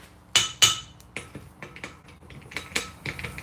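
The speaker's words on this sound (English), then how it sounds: "this is hitting the anvil" Hammer striking an anvil while forging a cross peen hammer, two sharp ringing blows followed by a run of lighter metallic taps, close and without speech.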